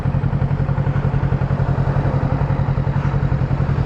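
Motorcycle engine running steadily with a regular low thrum and rapid pulsing, close and loud throughout, as a newer bike is ridden on the way home from work.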